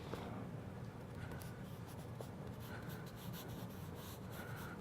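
Pen scratching across paper during a close-up card trick, a steady soft scribble with short strokes and pauses, quiet and continuous with no talk.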